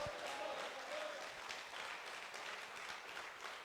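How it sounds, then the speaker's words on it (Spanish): Church congregation applauding, a steady wash of many hands clapping, fairly distant and faint, with a brief voice tone near the start. "Denle ese aplauso fuerte al Señor y diga: gloria a Dios."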